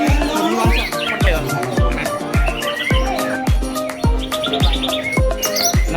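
Songbird at an East Java bird singing contest sings continuously with rapid chirps, trills and whistled phrases, loud and close, over a regular low thumping beat in the background.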